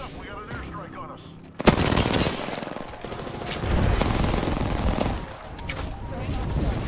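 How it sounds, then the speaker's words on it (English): Airstrike explosions in the Apex Legends battle royale game on Kings Canyon land hard at once and then roll on as a dense stretch of blasts and gunfire, with voices talking over the chaos. "Heads up, we got an airstrike on us."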